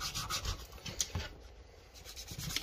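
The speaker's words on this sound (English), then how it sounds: "Now, I got some sandpaper. Now there is a tool you can use to trim it off. I think sandpaper does a better job." Sandpaper rubs in short, quiet scratchy strokes against the edge of a leather knife sheath being trimmed to shape, a few passes close up with no voices.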